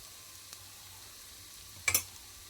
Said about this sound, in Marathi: आणि आता त्याला छान परतून घेऊया